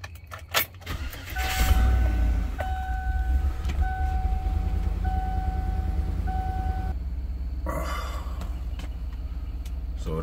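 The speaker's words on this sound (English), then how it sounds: "So then I'm going to do the view where my vehicle is running" A Chevy Avalanche's engine idles steadily close by, a low continuous rumble lasting throughout, with a brief jangle and a couple of short clicks early on and a faint intermittent electronic chime tone over the running engine.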